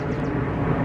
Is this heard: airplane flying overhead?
yes